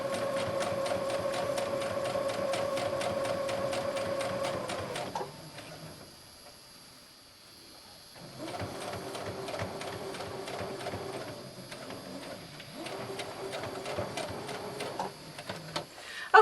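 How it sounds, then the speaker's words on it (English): Sewing machine running a straight quarter-inch stitch along a quilt block seam, a steady close whirring hum with rapid needle ticks that pauses briefly, then resumes at a steadier pace. "I'm going to straight stitch right along this at 1/4 of an inch"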